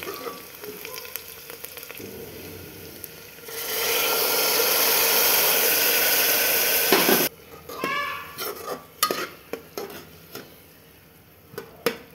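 Puree of green chili, coriander and garlic hitting a pan of browned onions, giving a loud, steady broadband sizzle for several seconds, then quieter intermittent stirring and scraping with clinks.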